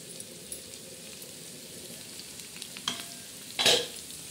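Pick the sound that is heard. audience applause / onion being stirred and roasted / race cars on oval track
onion being stirred and roasted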